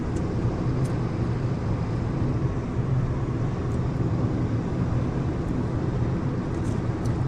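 Car driving along the Pacific Coast Highway north of San Francisco in July, a steady broadband road and engine rumble from inside the vehicle, continuous and fairly loud with no talk.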